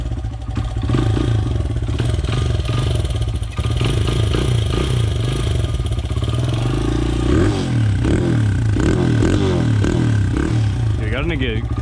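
A Honda CRF100 dirt bike engine catches on the first kick and idles with a loud, close, uneven chugging, blipping up briefly near the end as people talk over it.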